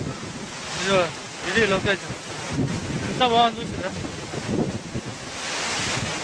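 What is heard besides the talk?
Gundala waterfall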